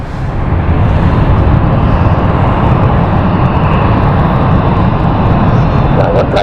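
A passenger plane landing at London City Airport gives a loud, continuous broadband engine roar with rumble, holding steady throughout.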